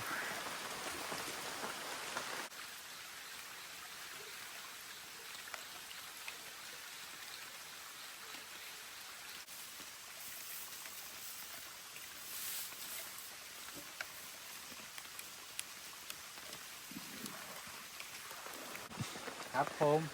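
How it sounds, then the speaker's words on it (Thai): Steady rain falling in a forest, a dense, even patter of drops on leaves and ground throughout, with a voice speaking at times. "ฝนคงจะตกให้ในแบบนี้ ตลอดทั้งวันเลยนะครับ"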